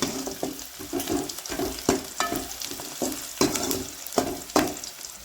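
Onion and a green chilli sauté in hot oil with a moderate crackling sizzle, punctuated by rhythmic scrapes and taps of a spatula stirring the pan.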